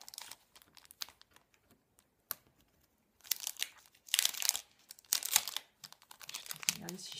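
Packaging around sheets of princess stickers is opened up close. Scattered small crinkles give way to louder bursts of plastic crackling and tearing, with a voice briefly heard.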